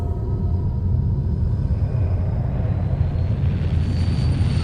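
A spacecraft lifts off with a loud, continuous rumbling roar and a rising whine, steady and powerful throughout with no voices.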